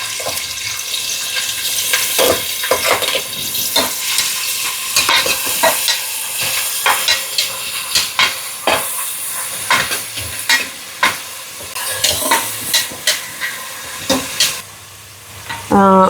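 Chopped onions fry in hot oil in a pan, sizzling steadily while a spoon stirs them with repeated scraping strokes, close and fairly loud.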